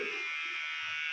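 An electric hair clipper buzzes steadily and close-up while cutting hair in a salon, a constant high motor drone lasting about a second.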